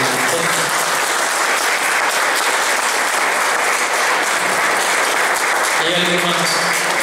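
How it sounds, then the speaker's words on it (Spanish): A church congregation breaks into sustained, loud applause that fills the room evenly from start to finish, with a slight swell of voices near the end. "Vamos a dar un aplauso."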